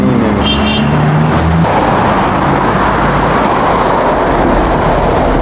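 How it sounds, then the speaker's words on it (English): A car rolls past on the street outside a Scientology church, a loud, close engine and tire roar that swells and holds, with a brief tonal chime at the start and no talk. "Yo, there's a car right there."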